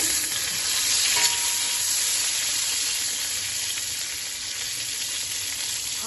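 Whole cumin seeds and tomatoes sizzle in hot oil in a pan while a catla fish curry is being made, giving a steady, close frying hiss for six seconds with no talking.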